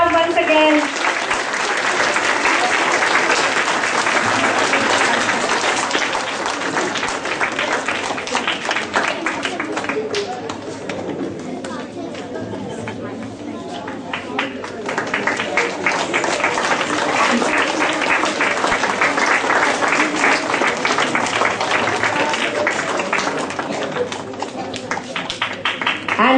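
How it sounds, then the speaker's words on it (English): Sustained audience applause fills a school Republic Day assembly hall, loud and dense throughout, with a slight dip near the middle before swelling again, and voices mixed into the crowd noise. "Big round of applause once again."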